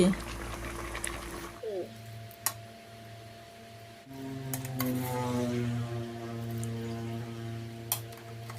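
Mango pieces simmer in boiling sugar syrup for chewy dried candied mango, a soft bubbling under a voice talking, with a low steady hum throughout.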